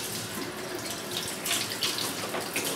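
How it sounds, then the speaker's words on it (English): Scissors being washed under a running kitchen tap, a steady close hiss of flowing water splashing into the sink, continuous and moderately quiet. "So I will wash the scissor first"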